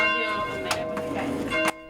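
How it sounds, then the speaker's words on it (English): Church bells ring out from the Greenock Church in St. Andrews, with a few bright strikes over a humming resonant tone, moderately close and steady for a short stretch. "the Greenock Church in St. Andrews was one of many churches around the world that rang their bells for 11 minutes on Friday"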